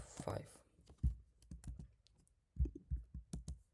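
Python code being typed on a computer keyboard: irregular bursts of close, crisp key clicks with short pauses between runs, fairly quiet overall.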